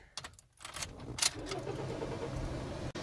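A 2008 Toyota Yaris starts up close by: keys jangle, the starter cranks briefly and the engine catches into a steady, quiet idle.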